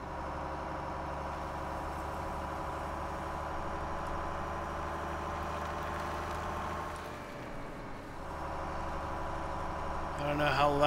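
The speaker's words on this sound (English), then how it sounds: "I really do like the sound of this truck." Steady low rumble of a truck engine idling in a farming video game, a constant drone holding through the clip, briefly dipping before a louder swell at the end.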